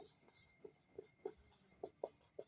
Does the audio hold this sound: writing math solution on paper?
yes